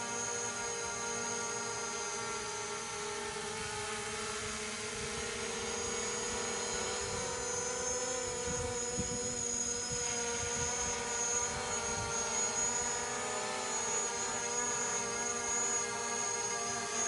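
A small consumer drone flies with a steady high-pitched rotor whine and droning hum holding level throughout, fairly close and continuous with no talking.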